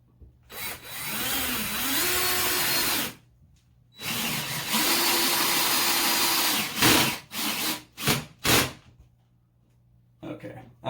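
A power drill drives a screw into a wall stud during a ceiling fan installation, two sustained whirring runs with pitch shifts, then short bursts as the screw seats; a person talks around the drilling.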